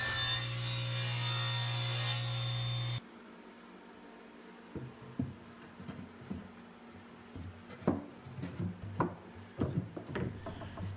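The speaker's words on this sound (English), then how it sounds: "I'm trimming it down on the table saw to fit just the way I want it" A table saw trims a wooden shelf, its motor giving a steady humming drone for a few seconds before it cuts out, followed by quiet scattered knocks and scrapes as the wood is handled.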